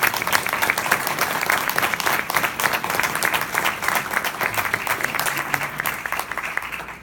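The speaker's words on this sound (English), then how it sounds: "let's give them a round of applause, please" An audience applauds forum candidates at a League of Women Voters ward forum, steady dense clapping from many hands lasting throughout, loud and close, with no talk over it.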